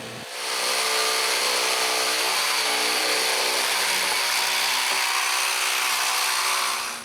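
A power saw cuts notches into wooden boards for the corner posts of a firewood shed at a cabin, a loud, steady whine running nearly unbroken for several seconds, with no one talking.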